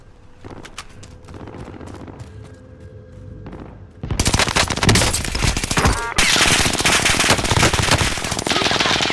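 Gunfire from Call of Duty: Modern Warfare in a quads match, starting with scattered shots and clicks, then erupting into loud sustained automatic fire and rapid bursts that dominate the second half.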